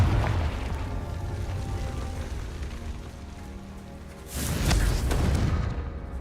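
A Confringo fire spell going off in Hogwarts Legacy: a steady crackling hiss runs under the scene, and then a burst explosion erupts near the end and rumbles on briefly.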